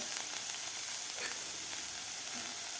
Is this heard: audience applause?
no